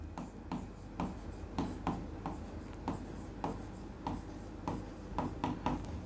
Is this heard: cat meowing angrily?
no